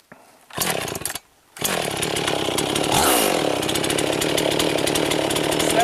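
A chainsaw used for felling trees starts with two short bursts, goes quiet for a moment, then roars steadily at close range, rising in pitch as it bites into wood, with no talking.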